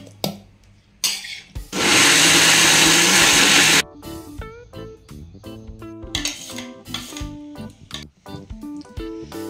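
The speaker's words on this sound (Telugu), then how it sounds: "కొంచెం ఉప్పు వేసి మిక్సీ పట్టాలి" A mixer grinder blends bottle gourd chutney in an Indian kitchen: a loud, steady whirring roar for about two seconds, with clinks and handling knocks before and after.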